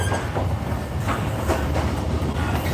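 Passenger train riding from Nha Trang to Quy Nhon on Vietnam's Hanoi–Ho Chi Minh line: a steady, close rumble with rhythmic rail clatter and carriage rattle, heard from inside the car.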